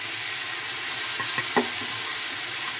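Potato and pointed gourd bhujia with spices is stirred in a frying pan, a soft steady sizzle with a few light scraping taps of the spoon partway through.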